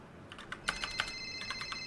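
A phone rings in a GTA roleplay game with a rapid series of bright, electronic trills. The rings are loud and near, with no talking over them.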